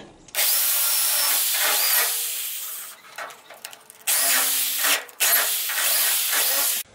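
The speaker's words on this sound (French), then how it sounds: "avec une perceuse, je vais légèrement dépointer les points de soudure électrique" Loud, close power drill whining through car body metal to drill out spot welds on a Citroën Traction 11 BL, in long bursts, pausing briefly between runs, with no voices.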